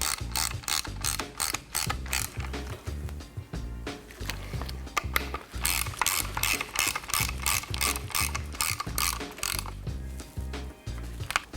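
A torque wrench ratcheting as bolts are tightened on an XFUSION suspension fork's lower leg, rapid rhythmic clicking in repeated bursts, close and prominent throughout.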